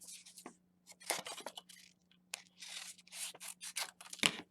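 Paper for a pop-up book is folded and creased by hand up close, making short crisp rustles and sharp scraping strokes in quick bursts separated by brief pauses.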